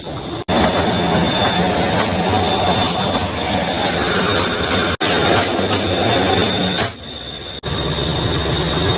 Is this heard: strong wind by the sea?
no